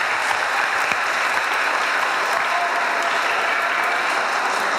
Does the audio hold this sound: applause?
yes